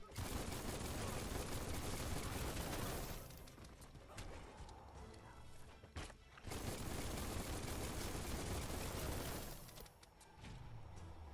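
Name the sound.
gunfire in the video game Biomutant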